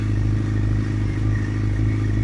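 A motorcycle engine idles on choke at about 1500 rpm during a cold winter start, a steady fast, even putter, close and loud throughout with no change in pitch.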